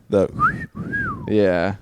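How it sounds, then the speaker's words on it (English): A person gives a two-part wolf whistle, a rising then falling tone, set between bursts of talking and laughter close to the microphone. "Oh, is are you calling that the sex whistle? Wolf whistle?"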